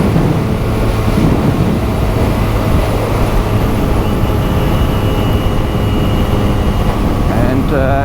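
Steady, loud wind rush buffets the rider on a 2023 QJMotor SRK400 naked motorcycle at speed, a broad roar blending with engine drone throughout.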